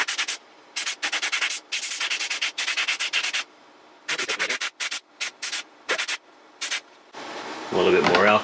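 A 3D print is rubbed with alcohol to clear excess resin, giving repeated short bursts of scrubbing close to the mic, each lasting a fraction of a second, with a louder burst near the end.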